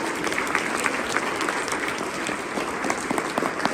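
Audience at a human care symposium keynote applauds a man being honoured, a steady wash of clapping with scattered sharper individual claps, moderately loud and sustained across the moment.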